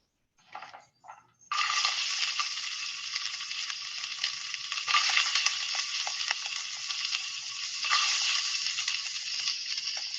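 Diced vegetables sizzling in hot oil in a pan, a dense crackling hiss starting after a couple of brief bursts and continuing steadily, growing louder at moments.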